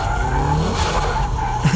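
Car tires squealing and skidding as it drifts into a corner too fast on a wet track, a sustained screech over a revving engine, loud and close throughout.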